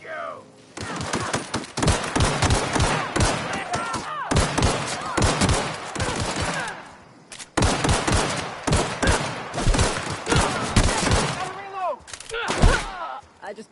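Gunfire in The Outer Worlds comes in rapid, close, loud bursts of sharp shots, broken by short pauses, then a longer volley near the end of the fight.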